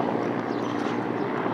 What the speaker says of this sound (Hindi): इंक्वायरी के लिए हेलीकॉप्टर भी आ गया।